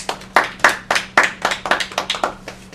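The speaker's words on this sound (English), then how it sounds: "Clap your hands if you know what I'm talking about." An audience at a community college reading claps hands in a ragged, uneven series of about a dozen distinct, close, loud claps that speed up toward the end, with a faint low hum behind and no speech.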